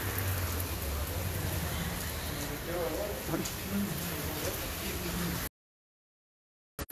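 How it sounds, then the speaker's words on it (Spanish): Heavy rain pours steadily as a dense, even hiss for about five seconds, loud and continuous, then cuts off into silence. "Nada más que llueve"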